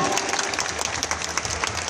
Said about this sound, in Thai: ปรบมือเขาดังๆครับเชิญ